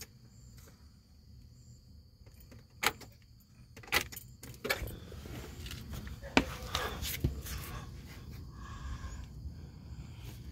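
Car keys jangle in a 2007 Pontiac Grand Prix GT ignition as the key is cycled, giving several sharp metallic clinks and rattles over a faint low hum and insect-like chirping.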